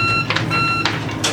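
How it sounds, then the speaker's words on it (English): Engine control panel alarm on a Bavaria 46 Cruiser sailboat, steady high electronic beeping tones in short repeated pulses, close and clear without talk. "Hold the power button on off, you will get an alarm sound."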